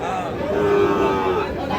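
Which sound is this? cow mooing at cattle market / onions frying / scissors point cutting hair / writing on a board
cow mooing at cattle market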